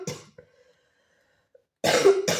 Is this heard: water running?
no